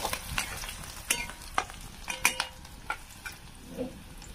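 Chopped garlic cloves frying in a pan until reddish, giving a low continuous sizzle with repeated sharp taps and scrapes as a spoon stirs them. No talking.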